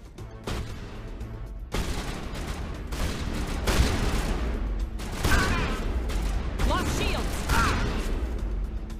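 Repeated gunfire in a sci-fi video game, with sharp shots and bursts stacked over a noisy, rumbling combat background, loud and close throughout.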